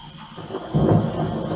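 Thunder rumbles from a storm over golden grassland plains in the rainy season, a low rolling boom that swells midway and lingers, fairly near and loud.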